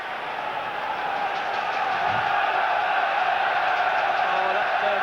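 Bruges supporters at a 1992-93 Champions League football match against Rangers roar as one, a steady, dense stadium crowd noise rising slightly in intensity across several seconds.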